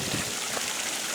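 Water swirls and gushes in a steady, rushing churn inside a sand-washing vat fed by an angled pipe, close and continuous with no talk.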